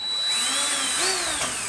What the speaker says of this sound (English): These screws that came with the rack are to secure the battery to the rack.